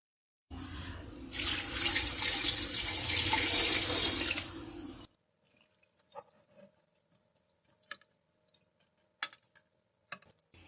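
About one and a half glasses of water is poured into a cooking pot of dal and chicken for shami kebabs: a loud, steady splashing rush lasting a few seconds, then quiet with faint scattered clinks and taps.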